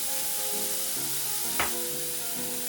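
Pork slices stir-fried over high heat, a loud continuous sizzle close up with one sharp scrape of the spatula partway through and a faint tonal hum in the background.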